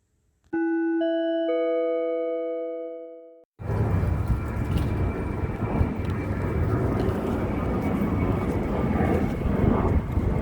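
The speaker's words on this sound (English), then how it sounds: "The moment I pull my phone out to document him, the plane starts sounding." A brief chime-like tone sounds first, then an airplane passing overhead fills the rest with a loud, steady broadband roar that holds to the end.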